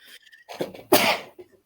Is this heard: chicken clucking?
no